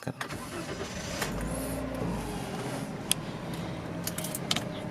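A Daihatsu Sigra R Deluxe, 2016 model, is started from inside the cabin, with a brief cranking burst followed by a low, steady idle, a few sharp clicks sounding nearby.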